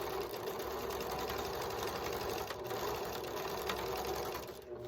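Sewing machine running steadily as it stitches bias binding onto a quilt, a continuous close whir held at an even level for several seconds with no pauses and no talking.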